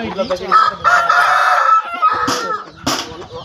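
A fighting rooster, a game cock trained for Sankranti cockfights, crows loudly at close range in a long drawn-out call, followed by shorter clucks and squawks.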